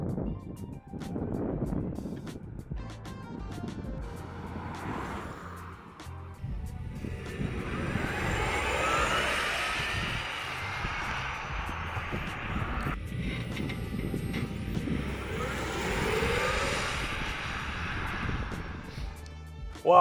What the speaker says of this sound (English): It really awakens this beast of a car. And here's a little launch with it.